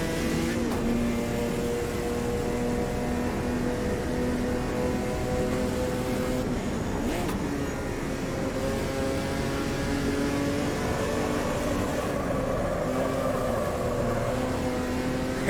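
Race car engine in the sim game Automobilista 2, a loud sustained drone that rises and falls with gear changes and throttle, continuous throughout with no talk.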